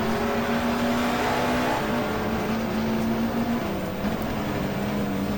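Touring cars from the 1987 British Touring Car Championship, including a Rover, roar through Club corner at Silverstone, a steady loud engine drone with shifting pitch as several cars run close together under braking.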